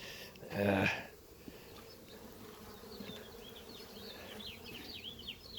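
Steady honeybee buzzing around a hive, bees droning close by, with a brief louder burst early on, then a continuous hum with faint high whines drifting through.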